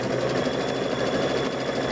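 A sewing machine runs steadily while stitching a quilt block, its continuous motor hum and rapid needle chatter holding an even level throughout, close and unbroken.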